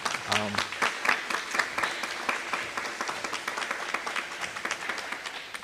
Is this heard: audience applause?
yes